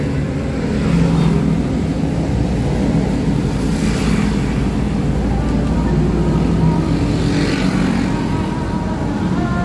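Ordinary-size Pelangi bus bound for Toraja rolling past an underpass in Makassar, a loud broadband engine and tire rumble blending into steady dense traffic noise, with talk partly underneath.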